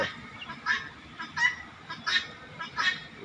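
A male turkey gobbling and calling in repeated loud bursts, about five calls spaced roughly evenly, close by with a quiet outdoor background.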